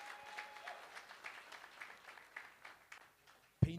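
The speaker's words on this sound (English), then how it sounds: "Massive round of applause." A crowd at a township business workshop applauds with a steady wash of clapping that gradually fades, then a sudden loud thump cuts in at the end.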